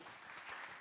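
Audience applause at a Central Oregon pitch-night pub talk, a dense, steady patter of many clapping hands filling the short moment without any voices.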